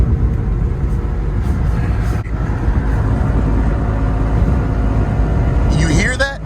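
A Mazda RX-8 on the road with a fault that makes it vibrate hard gives off a steady, loud low engine and road rumble throughout, with a brief voice-like rising tone near the end.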